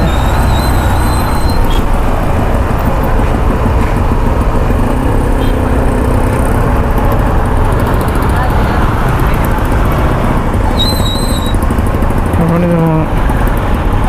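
Heavy Chennai city traffic roars without pause during a ride, with engine drone, passing motorcycles and buses, and brief horn toots, while a voice talks over the din.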